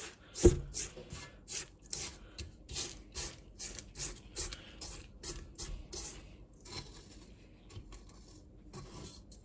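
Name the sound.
spatula scraping down the mixing bowl of cookie dough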